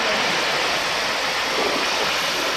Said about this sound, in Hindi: हमने इसमें एक बड़ा गिलास पानी का डाल देना